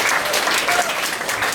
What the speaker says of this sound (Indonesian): perlu kita tepuk tangan dulu khusus